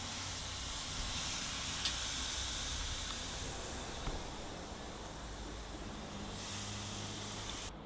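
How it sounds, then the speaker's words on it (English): Chicken skewers sizzle on a garden grill with a steady, loud hiss that stays even throughout. "That sizzle, nice."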